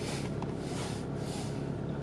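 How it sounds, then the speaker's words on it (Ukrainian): A 2021 VW Passat Alltrack 2.0 TDI diesel, 200 hp, idles while still warming up, heard as a steady close broadband rumble with a low even throb and no voices. "Машинка прогрівається, ще не прогріта."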